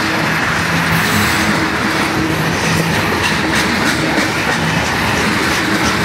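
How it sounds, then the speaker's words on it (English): BNSF freight train boxcars rolling past close by, a loud continuous rumble with rhythmic clickety-clack of wheels over rail joints and no talking. "Boxcar coming up, you guys."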